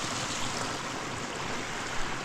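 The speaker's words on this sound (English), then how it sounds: "Love little creeks like these." A small creek flows through brushy woodland in Alaska, a steady, soft broadband rush and babble of water running on without pause, close by and undisturbed by voices.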